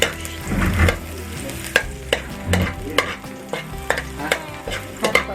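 Garlic frying in oil in a pan for a vegetable stir fry, a close crackling sizzle with distinct clanking strokes of a utensil against the pan at an uneven rhythm, no voices.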